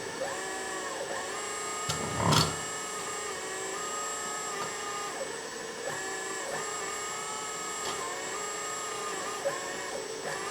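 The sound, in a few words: hydraulic pump running on LESU 1/14 RC hydraulic excavator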